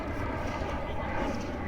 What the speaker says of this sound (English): the airline and airplanes coming across, very constantly coming across the top of the resort